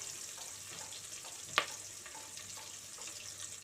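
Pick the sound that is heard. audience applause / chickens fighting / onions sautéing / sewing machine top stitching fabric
onions sautéing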